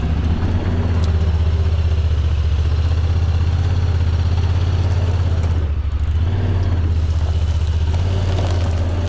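A Talon side-by-side drives through mud with its front differential locked; its engine drones loudly and steadily up close, dipping briefly partway through before resuming.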